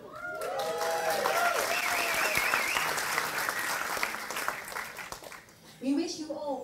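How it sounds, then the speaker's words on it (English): An audience at an African Night cultural show applauds the performers in a sustained wave of clapping with cheers and whoops, while a voice speaks over the start and the end of it. "give them a warm applause"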